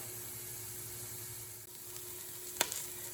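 Onions sizzle steadily in olive oil in a pan for a fennel and garbanzo bean soup, a constant close hiss broken by one sharp stirring clack near the end.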